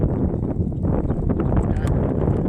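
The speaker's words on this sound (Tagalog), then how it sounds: "Alakas ng hangin dito." Heavy wind buffeting the microphone at St Charbel Lake in a loud, continuous low roar that rumbles and gusts without pause.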